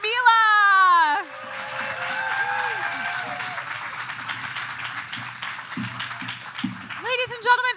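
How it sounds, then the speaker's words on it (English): An audience at a 2021 foundation gala applauds young musician Mila after her performance, steady crowd clapping that swells for several seconds, following someone speaking and with his voice returning at the end. "Let's give a big round of applause for Mila."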